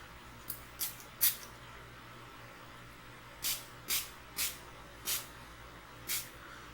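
Short pumps of e.l.f. Makeup Mist & Set setting spray hiss out in quick bursts, three close together, then a pause and five more evenly spaced, fairly close and crisp against a quiet room.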